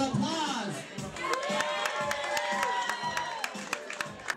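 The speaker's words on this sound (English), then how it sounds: "So give yourselves a round of applause." An audience at a Pride club event claps and cheers, with whoops and shouts over sustained applause and voices mixed in the crowd noise.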